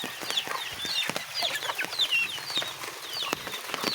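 Several farm-raised hens cluck and squawk close by, unfed since the night before, with busy overlapping calls over a soft rustling background and no one talking.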